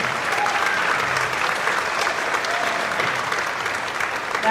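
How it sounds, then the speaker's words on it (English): An audience at an elementary school spring concert applauds a school orchestra, a steady, dense wash of clapping from a large crowd that holds evenly throughout. "please give them another round of applause"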